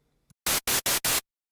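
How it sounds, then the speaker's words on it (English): Synthesized white noise from FL Studio plays as four short, loud bursts of hiss in quick even succession, each about a fifth of a second long, followed by silence. "let's just focus on white noise"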